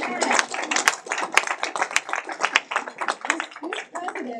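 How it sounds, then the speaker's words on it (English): Audience applause at a public speech by the U.S. Secretary of Labor: many hands clapping in a dense, continuous, fairly loud wash lasting several seconds, with voices mixed into the crowd noise. "yeah, you should clap."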